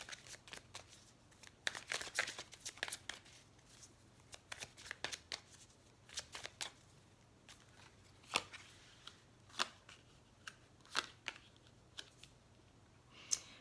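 Tarot cards are shuffled and laid down close up, with quick riffling bursts and a run of sharp, separate flicks and taps as cards are drawn, quiet and without talk.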